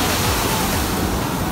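Ocean waves break and wash up on a beach in a steady, close roar of surf that fills the whole moment without a break.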